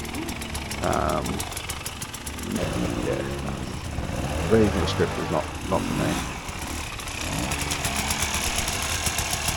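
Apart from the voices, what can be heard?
motorbike engine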